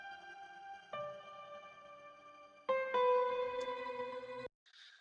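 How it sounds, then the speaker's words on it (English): IK Multimedia Pianoverse airy piano preset: soft sustained piano notes with long harmonic tails, a few chords struck in sequence with gentle reverb-like decay, quiet and alone before cutting off near the end. "Then we have the airy piano. And to me, the sound is a little bit airy."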